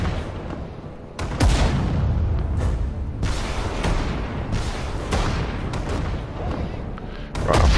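Artillery fire in the Sudden Strike 4 strategy game on PS4, with repeated heavy booms and blasts landing every second or so, loud and close, over a continuous rumbling battle din.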